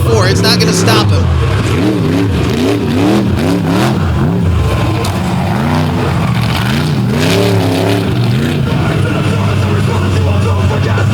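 Monster truck engine revs hard during a freestyle run at the Fowlerville Throwdown, the loud wavering roar climbing and falling continuously throughout, with an announcer talking over it.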